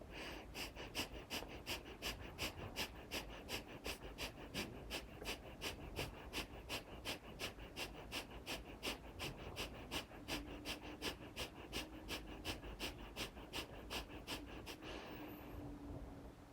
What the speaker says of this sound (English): then doing breath of fire in this pose